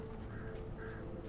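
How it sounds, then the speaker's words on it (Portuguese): Birds in Alan Wake Remastered give harsh, croaking calls that repeat in short bursts over a steady ambient drone in the Elderwood National Park. "Barulho de pássaro é péssimo."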